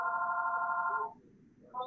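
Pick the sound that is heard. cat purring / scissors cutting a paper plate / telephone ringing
telephone ringing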